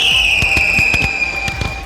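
Fireworks at a marathon event crackle and pop in rapid, irregular bursts over a sustained high whistling tone, loud and close throughout.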